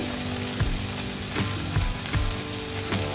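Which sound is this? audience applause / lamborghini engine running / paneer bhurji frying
paneer bhurji frying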